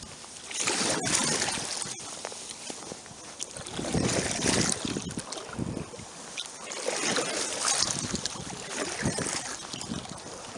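A kayak paddle dips and pulls through the water while drift fishing, with soft splashes and trickles in an uneven rhythm over light wind noise, fairly quiet and close.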